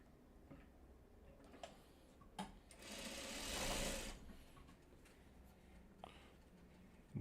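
A sewing machine runs in a quiet room, stitching quilt block pieces in a short burst of steady whirring, framed by scattered soft clicks and handling taps before and after.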